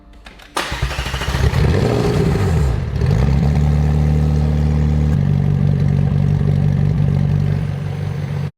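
A damaged McLaren 720S fires up on the first try with a sharp crank and a loud catch. It flares briefly, then settles into a steady, rumbling idle close by.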